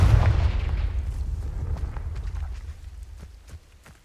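A Confringo spell blast in Hogwarts Legacy lands with one heavy booming explosion up close, its low rumble decaying over a few seconds. Faint scattered crackles and ticks follow.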